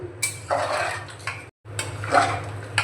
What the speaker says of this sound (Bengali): কিছুটা আমি জল দিয়ে দিচ্ছি, একটু নাড়িয়ে নিচ্ছি।